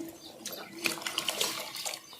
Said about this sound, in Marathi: इथे आपण एक ग्लास पाणी गरम पाणी घालतोय